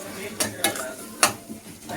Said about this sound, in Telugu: సో ఇవి కొంచెం లైట్గా వేగాయండి.